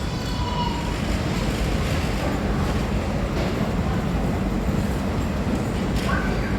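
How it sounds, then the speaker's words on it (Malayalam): A moving train rumbles steadily at close range, with continuous broadband noise throughout and a brief higher tone near the end, during a Thaipusam festival trip. "കണ്ടോ ട്രെയിൻ നീങ്ങിക്കൊണ്ടിരിക്കുന്നുണ്ടോ."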